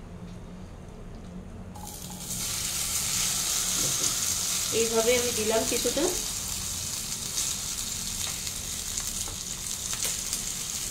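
Noodle pancake batter sizzles as it is ladled and spread across an oiled pan, a steady close frying hiss with brief scraping and stirring sounds in the middle, while a person speaks briefly over it.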